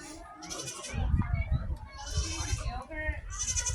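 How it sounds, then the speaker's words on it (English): A young black baby goat bleating loudly and repeatedly at close range, several wavering cries in a row at an outdoor farm party, with people talking in the background. "That black baby goat is noisy."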